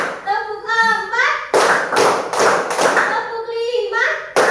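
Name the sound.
children clapping hands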